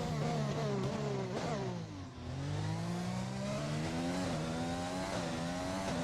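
An AlphaTauri Formula 1 car in an F1 video game on the first lap at the Shanghai circuit in China, its engine screaming loud and close, dipping briefly as the revs drop and then climbing steadily through the gears.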